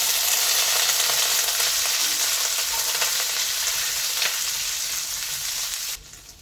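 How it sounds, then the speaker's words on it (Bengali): Onion fries in hot oil with ginger and garlic, making a loud, steady, close sizzle that drops off sharply near the end. Faint stirring sounds run underneath, and no one speaks. "এর মধ্যে আমি পেঁয়াজটা দিয়ে দিতেছি।"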